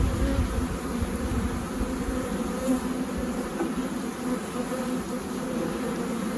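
Honeybees drone in a dense, continuous buzz around an open hive, close and fairly loud throughout, with no talking.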